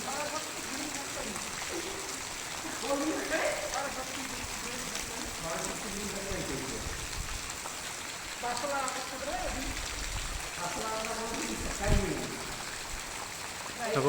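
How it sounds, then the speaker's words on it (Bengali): Heavy rain pours down outdoors in a steady broadband wash with dripping and trickling water, while people talk intermittently over it at moderate distance. "প্রচণ্ড বৃষ্টি হয়ে আমাদের কাজ বন্ধ হয়েছে"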